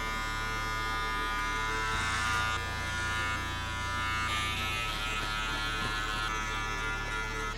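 An electric hair clipper fitted with a number 3 guard buzzes steadily close by while cutting a kid's hair, its hum shifting slightly in pitch as it moves through the hair, with no talking.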